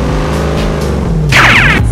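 A hydraulic crusher flattens a pickup truck, giving a steady loud low rumble and groan that ends in a brief burst of cracking and crunching metal near the close.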